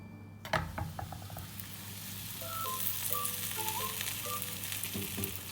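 A paratha fries in ghee, sizzling and crackling in a hot frying pan with a soft steady fizz, a few scraping clicks and light utensil taps on top.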